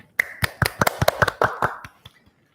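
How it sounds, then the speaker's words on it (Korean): A brief burst of scattered handclaps from a few people at an education policy forum, quick and uneven, fading out after about two seconds. "큰 박수 부탁드리겠습니다"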